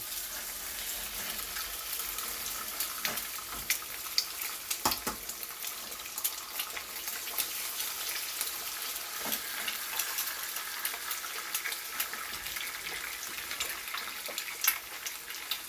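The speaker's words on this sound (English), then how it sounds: "Just let the egg sit there for a while in an oil." Eggs frying in oil in a wok for shrimp fried rice, giving a steady, even sizzle with faint crackles and occasional light clicks, close and alone.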